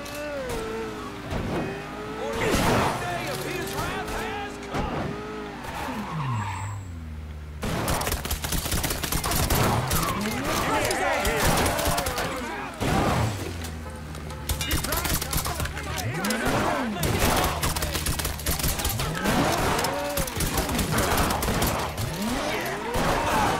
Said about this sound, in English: y'all are shooting the daylights out of my car